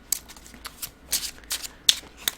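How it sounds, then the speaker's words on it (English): Tarot cards are handled and shuffled nearby in a few quick bursts, sharp riffling flicks and papery slaps spaced irregularly over a quiet background, with no talking. "Okay, so I'm going to pick two more cards."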